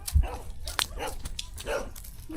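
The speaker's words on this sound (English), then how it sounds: "We just got to get past these rabid dogs." Dogs bark several times on an outdoor mountain trail near Subic Bay, the sharp barks coming in scattered bursts at moderate distance over faint background noise.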